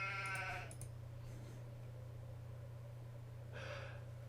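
Sheep bleat in Age of Empires II: The Conquerors, with one wavering bleat at the start and a shorter, fainter one near the end over a steady low game hum.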